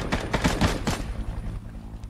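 Rapid gunfire from the Knives Out battle royale game, a cluster of sharp, loud shots in the first second that trails off into quieter game ambience.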